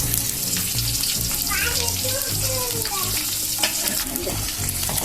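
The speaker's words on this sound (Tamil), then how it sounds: "வெங்காயம் போட்டுக்கோங்க போட்டு நல்லா வந்து அதை வதக்கணும் கோல்டன் கலரில் வர்றதுக்கு நம்ம வந்து வதக்கணும்" Onions sautéing in a pan for a soya chunk gravy, a steady broadband sizzle with scraping stirring strokes throughout, close and continuous with no talk.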